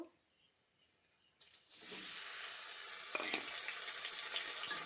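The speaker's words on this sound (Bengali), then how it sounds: "মশলা ভাজা হয়ে গেছে এবারে থেতো করে রাখা চালতাগুলো দিয়ে দেব" Crushed elephant apple going into hot mustard oil with whole cumin and curry leaves; after a quiet start with a faint pulsing hum, a sudden loud sizzle erupts and keeps frying steadily, close up, with a few clinks.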